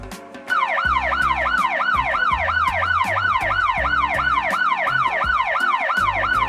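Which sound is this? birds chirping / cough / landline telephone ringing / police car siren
police car siren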